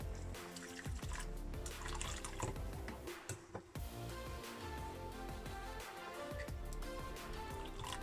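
Water pours and trickles into a flaxseed mixture for a vegan Jamaican fruit cake, a soft continuous splashing with small drips and clinks, fairly quiet and without voices.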